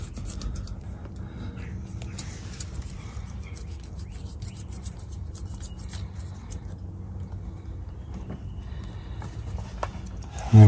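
A small knife slices off the excess of a plug pushed into a punctured car tyre, giving quiet scratchy cutting scrapes and light clicks over a low background rumble.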